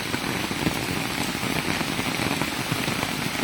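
Downpour hammering on colored tin roofing in a village, a thick, constant patter of drops on metal sheets, loud and close, with no one speaking.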